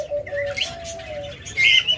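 Caged lovebird breeding pairs chirp nearby, with a thin sustained whistle and scattered high tweets, ending in a louder shrill burst.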